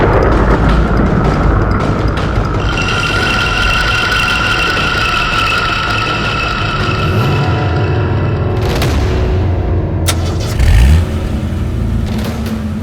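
A car engine rumbles and revs with a steady low drone, a heavier thump near the end, amid a stormy forest setting, loud and close with no talk.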